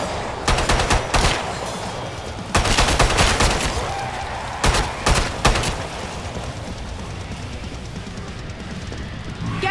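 Repeated bursts of gunfire from the guns in the shooter game Killing Floor 2, loud, close and dense, with rapid volleys and short pauses over a constant din of game noise.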